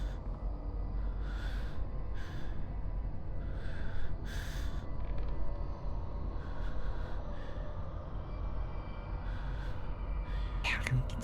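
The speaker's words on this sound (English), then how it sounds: "okay, I can hear breathing." Heavy, rasping monster breathing from the horror video game Hollow Cocoon, snorting and gasping in steady waves over a dense, rumbling game ambience, with a few sharper hisses toward the end.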